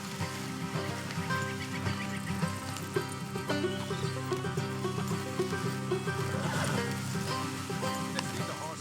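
Horses whinny and hooves clop in Red Dead Redemption 2, set under a dense, continuous layer of game music and ambience, with the animal sounds fairly faint.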